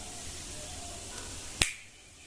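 One sharp, close finger snap in a Hindi audio story, sudden and loud against a faint hiss, fading quickly into silence.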